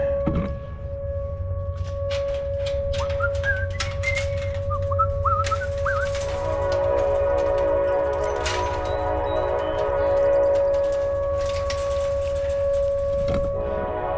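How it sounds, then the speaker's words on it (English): A siren sounding like a train horn in Mableton holds a loud steady tone for most of the span, with bird chirps and whistle-like calls over continuous low rumble in an outdoor setting. "That siren there sounds just like a train,"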